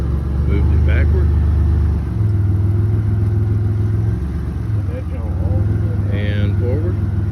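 A jump-started car at a police towing auction idles and rolls backward, giving a steady, close low engine rumble whose pitch shifts partway through. Brief voices come in over it.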